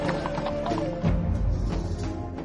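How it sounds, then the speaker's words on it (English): Horse hooves clip-clopping with rolling wheels of a Roman chariot in an ancient colonnaded city, a steady mid-distance clatter under music, with a brief neigh near the start. "You can almost hear the chariots rolling through one of history's great Roman cities."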